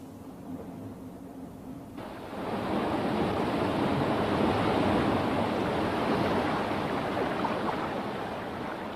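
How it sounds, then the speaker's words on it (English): Water pours over a small waterfall into the stream below, carrying air down with it; a steady broadband rush that swells after a quieter opening, loud and continuous with no talk. "As water flows over this fall, it carries some air with it into the stream below"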